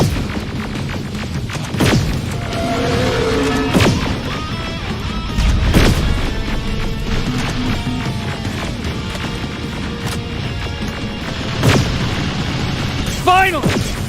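Gunfire and explosions during a fight against a robot in the Terminator Resistance video game, with repeated heavy bursts and booms over a dense, busy battle din, and speech mixed in.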